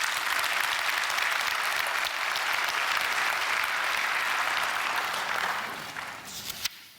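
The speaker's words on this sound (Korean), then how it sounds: "아내한테 박수 한번 해주세요." A church congregation applauds in a sustained burst of clapping at moderate level, which thins and fades out near the end.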